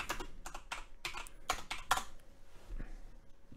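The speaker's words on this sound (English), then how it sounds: "Let's go in here and type in Mark Tufo" Typing on a computer keyboard: a quick, uneven run of sharp, close key clicks, some louder taps standing out, in a quiet room with no talking.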